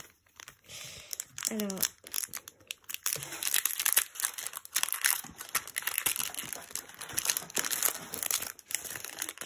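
A Flesh and Blood trading card booster pack is torn open with dense crinkling, tearing foil wrapper noises close up, while people talk and laugh over it.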